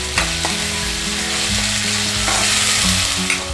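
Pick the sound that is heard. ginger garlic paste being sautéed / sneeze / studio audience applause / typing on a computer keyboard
ginger garlic paste being sautéed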